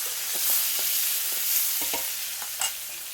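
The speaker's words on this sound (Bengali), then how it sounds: "দিয়ে হালকা হালকা একটু ভেজে নেবো," Chopped capsicum and tomato sizzle in a hot wok while a utensil scrapes and tosses them in repeated quick strokes, close and fairly loud.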